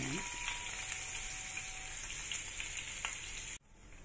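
Garlic sizzles in hot cooking oil in a pan, making a steady crackling hiss throughout that cuts off sharply near the end.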